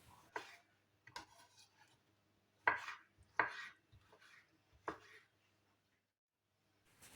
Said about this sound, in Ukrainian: Нарізаю кубиками помідор.